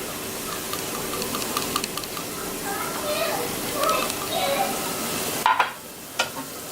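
Sizzling frying with stirring as tomato sauce is added to a hot pot for Puerto Rican salchichón soup, a steady close hiss with scraping spoon sounds and a sharper clatter near the end, speech faintly present.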